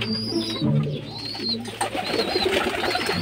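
Pigeons coo in a loft housing young birds and squabs, soft repeated throaty calls rising and falling close by over a steady background hum, with no talk.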